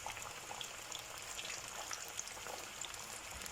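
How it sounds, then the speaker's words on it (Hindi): Fish pieces frying in hot oil, a soft, even crackle and sizzle with scattered pops, fairly faint and steady with no talking. "तो जी ऑयल हमारा गर्म हो चुका है। अब हम इसमें ऐड करेंगे अपनी फ़िश को।"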